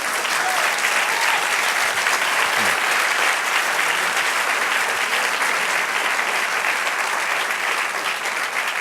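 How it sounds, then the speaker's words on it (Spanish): Sustained applause from a church congregation fills the space, dense and steady throughout, with a faint voice surfacing briefly near the middle. "dale aplausos y apláudelo"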